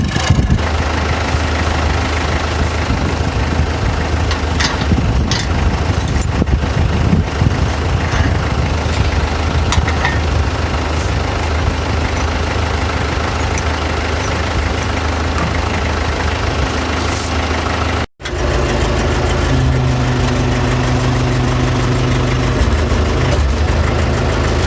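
A Case 830 farm tractor engine runs continuously near the microphone, a loud rough diesel rumble that drops out briefly and then resumes at a steadier idle, with no talking.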